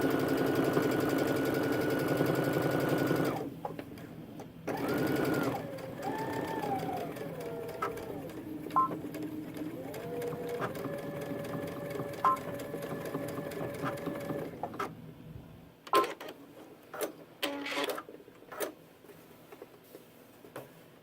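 A sewing machine stitches a backpack pocket in several runs of steady whirring, with pauses and speed changes, followed by faint clicks and handling sounds near the end.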